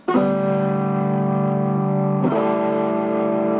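Two sustained distorted electric guitar chords ring out, the second struck partway through, thick and buzzing with a long sustain, no talking.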